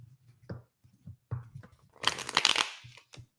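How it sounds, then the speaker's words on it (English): Tarot cards being shuffled by hand, a dense papery riffle burst in the middle flanked by lighter handling taps and rustles, close and fairly quiet. "I have to shuffle the cards"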